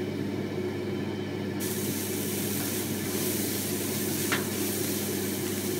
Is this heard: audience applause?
no